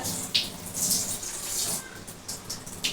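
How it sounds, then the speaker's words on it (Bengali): Water splashes in short bursts while a bowl coated with leftover mung dal is rinsed in a kitchen, faint to moderate with uneven pulses and no talk. "বাটিটা ধুয়ে একটু জল দেবো"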